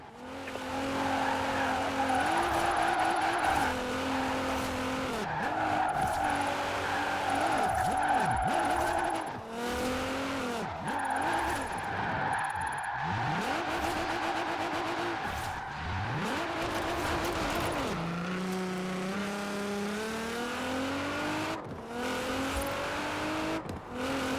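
A car drifts in Forza Horizon 4. The engine revs up and down while the tires squeal in long, wavering skids, loud and close, over a steady mechanical drone with no talking.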